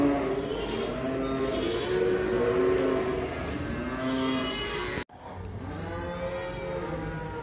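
A female Simmental cow moos on a farm, with long harmonic calls rising over steady barn noise, a brief cut near the end, then lower lowing continuing.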